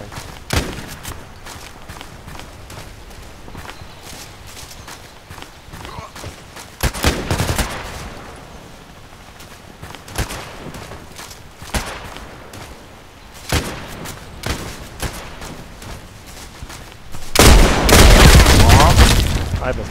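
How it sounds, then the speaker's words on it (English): Mortar shells and gunfire in the online shooter Contract Wars: scattered sharp shots and booms ring out across the stretch, ending in a loud sustained rumbling barrage near the close. "now I wait for the bombardment"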